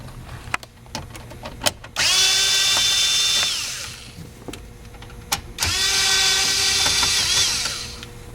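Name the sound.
power tool removing 7mm screws from car dashboard bezel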